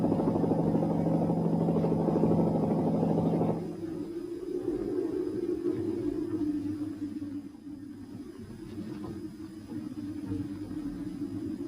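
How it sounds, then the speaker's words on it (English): A helicopter flies over snowbound Dartmoor in a 1963 newsreel, its steady rotor drone loud at first, then dropping to a lower, more distant hum that carries on to the end. "Again, only helicopters could help."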